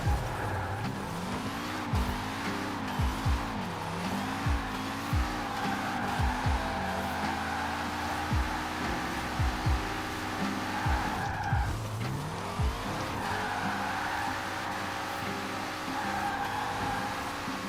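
A Peugeot 205 Rallye in Forza Horizon 4 spinning its wheels, with a revving engine and repeated tire squeals and skids over a steady drone, close and continuous without talk.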